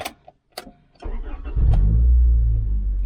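A car engine, just repaired, cranks and catches at once, settling into a steady, loud idle close by after a few brief clicks and knocks.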